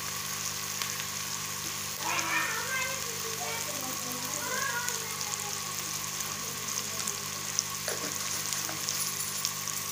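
Spiced masala fries in a pan with steady, moderate sizzling and occasional stirring, while a voice is faintly heard in a village kitchen.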